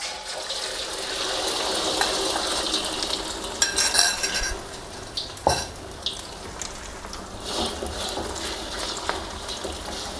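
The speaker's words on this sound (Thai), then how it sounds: "พอน้ำมันร้อนเทไข่ลงไปได้เลยครับ" Steady sizzle of beaten egg frying in hot vegetable oil over medium heat, with a few clinks of a pan and utensil standing out along the way.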